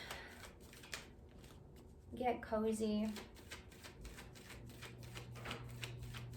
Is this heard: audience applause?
no